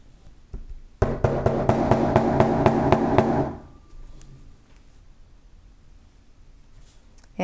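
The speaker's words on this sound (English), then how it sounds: "add a little bit of glue and hammer your bead into place like you did on the first one" Rapid, loud metallic tapping as a bead is hammered into place on a Damascus bracelet with leather cord, about a dozen quick evenly spaced strikes over two and a half seconds, then a quiet room with faint handling.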